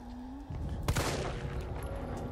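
Gunfire erupts in a Chinese zombie video game: a sharp close shot burst followed by a sustained loud crackling fusillade over a steady game drone.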